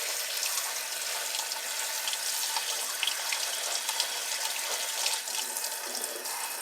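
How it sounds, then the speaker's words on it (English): Tap water runs into a sink over the parts of a juicer being cleaned, a close, steady splashing stream with no talk. "now I'm going to run the water in here."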